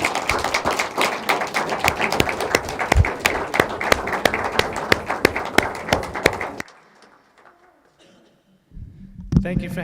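Applause from an audience welcoming a singer: many distinct claps in a brisk, uneven patter, fairly close and loud for about six seconds, then falling to near silence before a few sounds return.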